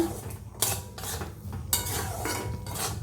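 A spoon stirring chicken patty filling seasoned with garam masala and soy sauce in a metal pan, repeated scraping clinks and rustling strokes close up, with no talking.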